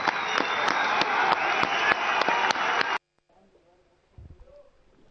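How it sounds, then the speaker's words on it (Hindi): An auditorium audience applauds in a dense, steady burst of clapping for about three seconds, then it cuts off abruptly to near silence with a faint low thump afterward. "तालियों की गड़गड़ाहट से सभागार गूंजता रहे"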